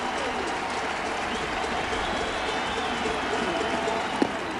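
A small weekday-afternoon crowd at a Phillies vs Mets makeup baseball game in 2006 cheers and applauds, a steady distant wash of noise with no talk heard over it.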